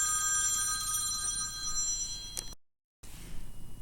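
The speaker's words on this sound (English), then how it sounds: "Please excuse the phone ringing in the background." A telephone rings in another room of a home, a continuous electronic trill that cuts off abruptly, followed by a moment of silence and quiet room noise.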